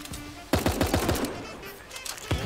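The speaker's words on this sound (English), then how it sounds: "I hit him with sniper shot." Gunfire in the video game Super Animal Royale, a sniper shot among a quick burst of sharp repeated shots at mid-distance, followed by a few scattered later cracks, with no talk over it.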